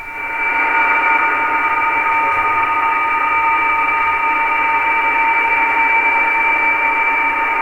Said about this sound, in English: a PSK31 sounds like a kind of a continuous tone with a very slight shift that you can hear inside with your ear